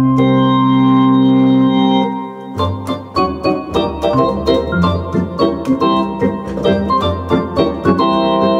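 Wersi Helios organ played through a slowed rotary Leslie simulator on its drawbar voices: a sustained chord swells for two seconds, then a run of rhythmic chords pulses with slow rotary warble, loud and close, with no voices.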